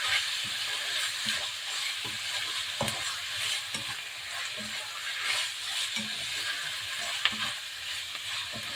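Pork belly frying in a pan while being stirred for Ilocano igado, a continuous close sizzle with regular scraping and clacking strokes of the spoon, no voices.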